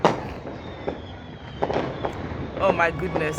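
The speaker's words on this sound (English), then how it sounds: "See, they have some nice fireworks." Fireworks bursting all around during New Year celebrations, several sharp cracks and pops near and far with crackling bursts, while a person speaks over them.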